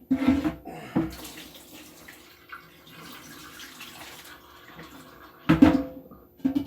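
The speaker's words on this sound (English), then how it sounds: "Let's drain this water off." Water runs and splashes as it is poured off washed spinach into a sink, with bursts of louder gushing at the start and near the end and a quieter trickle between.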